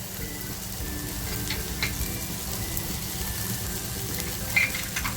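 Red and green chillies sizzle in a frying pan while prawn chilli is cooked, a steady close crackling fry with faint stirring clicks and no talking.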